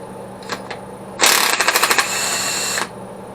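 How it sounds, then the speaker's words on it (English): A strong impact gun grunts against stuck bolts during a Ford 302 engine teardown, with a loud sustained burst of rapid hammering pulses that lasts about a second and a half before it cuts off, preceded by a few short metallic clicks. "This gun right here is strong. For it to kind of grunt like that"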